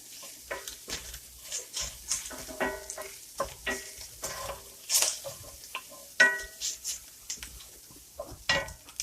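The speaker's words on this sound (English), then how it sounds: "I gotta stop a minute and stir my sausage." Sausage cooking in a pan while being stirred: a steady sizzle beneath repeated scraping and clattering of a utensil against the pan, close and fairly loud, in irregular bursts throughout.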